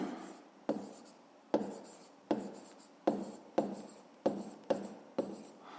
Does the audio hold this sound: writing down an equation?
yes